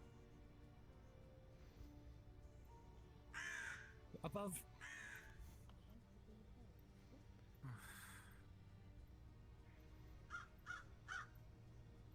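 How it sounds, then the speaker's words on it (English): Hostile crows in a video game give several harsh caws, some in quick clusters, heard over a steady background while a person speaks briefly. "The crows are hostile."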